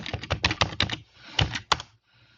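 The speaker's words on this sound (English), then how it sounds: "We put in the password." Password keys tapped on a computer keyboard at a Cisco device prompt, a quick run of close clicks followed by a pause and two final key presses.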